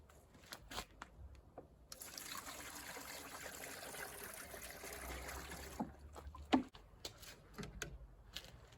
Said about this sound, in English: I'm first adding water to the reservoir until it reaches the middle between